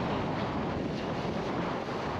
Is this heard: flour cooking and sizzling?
no